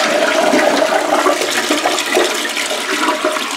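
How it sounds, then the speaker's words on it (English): A toilet on a septic line that was just cleared gives a full flush, with a loud, steady rush of water swirling and draining close by, no speech over it. "All right, full flush this time."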